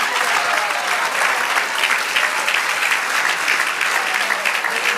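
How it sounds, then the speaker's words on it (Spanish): Church congregation clapping loudly together during a sermon, a thick, continuous wash of many hands that stays steady for several seconds with no talking over it. "Dale aplauso."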